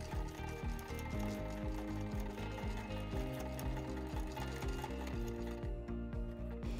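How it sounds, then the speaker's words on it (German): A sewing machine stitches closely around hook-and-loop tape on a dog jacket, running continuously with a fast, even mechanical clatter throughout. "Nähe um jedes Klettband knappkantig herum."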